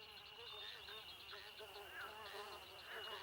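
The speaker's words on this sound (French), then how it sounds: "Ah, un moustique." A cartoon mosquito buzzes with a thin, steady high-pitched whine that runs through the whole moment, while a voice speaks over it.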